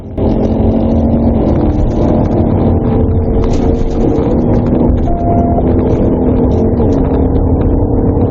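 An Arkansas State Police car pursues a Dodge Charger at around 100 mph on rural roads, its engine roaring loud and steady under heavy wind rush, with no break across the stretch.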